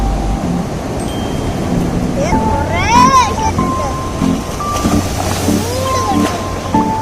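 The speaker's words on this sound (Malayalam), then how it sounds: "തിരമാലയ്ക്ക് ശക്തി കൂടി തുടങ്ങി" Waves at a beach by a cliffside sea-view resort on an island, a steady broadband wash of surf growing stronger, heard beneath people talking.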